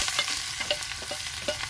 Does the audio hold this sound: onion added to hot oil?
yes